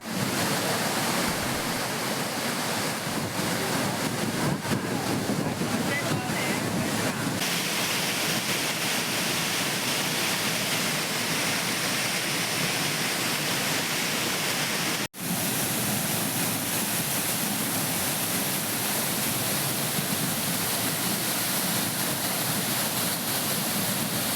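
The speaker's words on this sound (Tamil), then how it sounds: "குற்றால அருவிகளில் கடும் வெள்ளப்பெருக்கு ஏற்பட்டுள்ள நிலையில் அருவியில் குளிக்க சுற்றுலா பயணிகளுக்கு தடை விதிக்கப்பட்டுள்ளது" The flooding Courtallam waterfall roars in heavy spate, a dense, constant wash of falling water that stays loud and unbroken from start to finish, with no voices.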